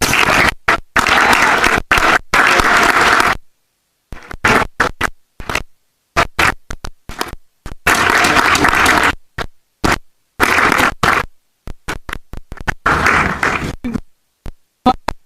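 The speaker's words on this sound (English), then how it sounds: "One more round of applause" Applause from a commencement ceremony crowd rings out in several loud bursts separated by sudden silences, the clapping repeatedly cutting in and out.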